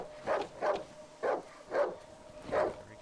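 Dog barking in the horror survival game Darkwood: five evenly spaced, mid-loud barks roughly half a second apart, each short and punchy, heard alone with no talk.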